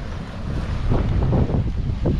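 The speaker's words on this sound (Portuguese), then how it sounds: "Muito vento aí, ó." Strong wind buffets the microphone on a beach during shore fishing, a steady low roar that swells louder toward the middle, with surf washing underneath and no talking.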